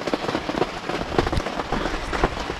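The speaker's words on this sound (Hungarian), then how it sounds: "amikor szakad az eső" Heavy rain pours steadily on a dense forest, a dense continuous hiss broken by a few louder drops and patters, close and fairly loud throughout with no voices.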